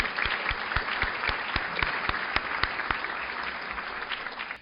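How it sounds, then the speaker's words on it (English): Audience applause for honorary consuls at a lecture event, a thinner crowd producing crisp, individually distinct claps that hold steady for several seconds before easing off. "So a big round of applause to our Honorary Consuls."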